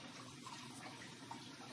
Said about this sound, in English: I'm gonna add a water. So about 5 cups of water.